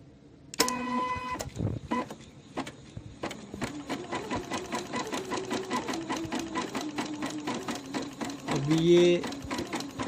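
A Janome 8200 sewing machine starts up and stitches in a fast, steady rhythmic whir with a ticking needle mechanism, with a few brief beeps near the start and end, while a person talks over it briefly.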